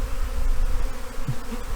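A swarm of honeybees buzzes around close by, a thick, wavering hum that swells and dips over under two seconds.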